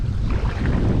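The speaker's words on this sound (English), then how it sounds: "the wind's starting to pick up" Wind gusting across a river during a kayak fishing outing, a steady low rumbling buffet against the microphone with no other sounds, loud and continuous for a brief moment.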